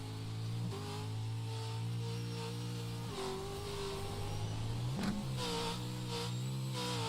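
An off-road race truck's engine drones steadily at high revs during an XSLR race at Crandon, sounding not quite right, shifting pitch at intervals as it changes gear, heard from a distance without talk.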